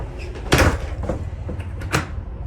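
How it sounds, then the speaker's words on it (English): A bathroom door on an Amtrak Superliner train opening and closing: a solid thump and rattle, then a second latch-like knock a moment later, close by over steady train rumble. "Always make sure to knock and to lock the door when you're inside."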